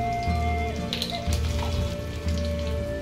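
Long-cut potato strips sizzle steadily in hot oil for a raw banana kofta recipe, a continuous close, moderately loud crackle with small pops, no talking.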